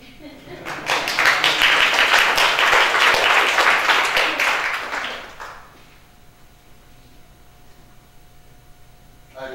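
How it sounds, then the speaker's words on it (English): An audience at a book launch claps steadily for several seconds, a dense, loud wash of applause that then stops abruptly, leaving a quiet room. "You can clap your hands."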